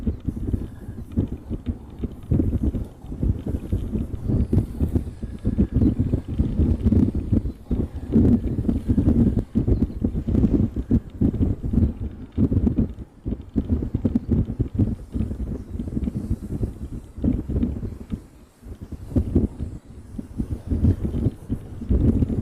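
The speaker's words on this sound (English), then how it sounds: "The wind is really picking up." Strong gusting wind buffets an outdoor microphone at a plane-spotting spot on Maui, Hawaii, a loud continuous low rumble that rises and falls over twenty seconds with no voices.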